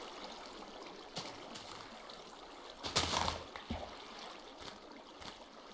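Flowing water in Minecraft makes a faint, steady trickling stream with a few brief splashy bursts, loudest about halfway through.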